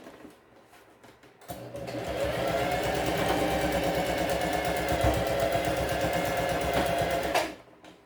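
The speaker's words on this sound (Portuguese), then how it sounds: "é só fazer uma costura reta com meio centímetro também" A sewing machine stitches a straight half-centimetre seam while a small cosmetic bag is being made, running at an even rapid whir for about six seconds between quiet moments.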